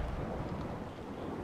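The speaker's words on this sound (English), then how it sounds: "that thunder sounds like glass shattering" Thunder rumbling in the video game A Way Out, a steady low roar with rain-like hiss, heard alone and fairly faint.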